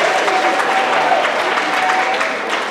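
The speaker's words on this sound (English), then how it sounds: "Can y'all clap it up for our first volunteer?" Crowd applause greeting a volunteer at a school professionalism talk, a brisk, full burst of clapping with a murmur of voices, tapering slightly at the end.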